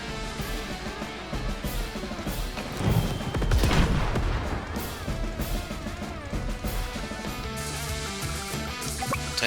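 Tanks battling in woods in the video game Advance Wars, with a loud boom and crashing impacts over continuous game music, the blasts swelling in the middle of the clip.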